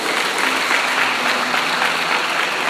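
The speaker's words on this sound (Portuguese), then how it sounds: "Pode aplaudir o Senhor." Church congregation applauding during a Portuguese-language evangelical sermon: loud, continuous dense clapping from a large crowd, even and sustained with no pauses.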